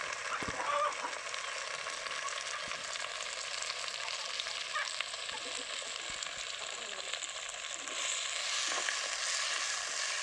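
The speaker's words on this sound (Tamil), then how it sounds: "சின்னதாக நறுக்குனா 3 தக்காளிங்க. நல்லா வதக்கி விட்டுருலாங்க." Chopped tomatoes sauté in a clay pot for a country chicken fry, giving a steady, loud broadband sizzle that runs throughout with occasional stirring scrapes.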